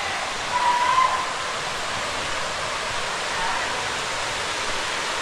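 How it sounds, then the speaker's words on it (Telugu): Gandhari Medaram waterfall roars in a steady, dense rush of falling water, a constant broadband wash with a slight swell near the start, heard from some distance. "ఎక్సలెంట్ ఉంది వాటర్ ఫాల్ అయితే"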